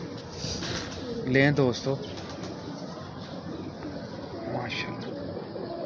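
Pigeons coo on a rooftop loft, soft rolling calls with a brief flutter of wings, heard beneath a voice and a steady background hum.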